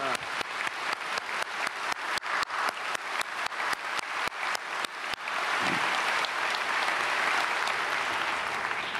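A church congregation at a special dawn worship service claps in a steady unison rhythm for about five seconds, then breaks into dense, sustained applause that fills the room.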